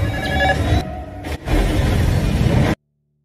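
A loud telephone rings in an action film scene where a building is rigged to explode on an incoming call, its bell mixed with a whooshing swell before cutting off abruptly into silence.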